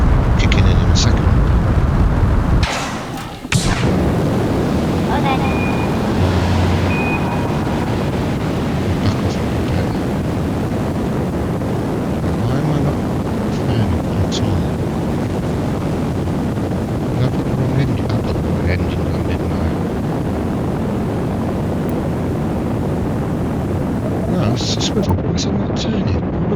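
A swivel rocket engine in Kerbal Space Program 2 roars loudly and continuously, a dense rushing wash with a brief dip early on, then holds steady for over twenty seconds before thinning out at the end.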